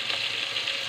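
Garlic fries in hot oil with a steady, bright, continuous sizzle and a faint hint of stirring, close and even throughout with no talking.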